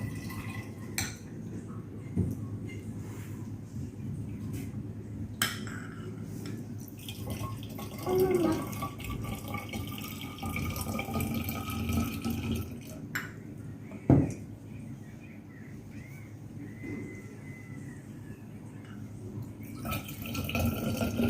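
Hot and cold water poured into a thermos for a classroom heat experiment: trickling, splashing liquid with occasional clinks of cups and containers, close and moderately loud, with background room noise.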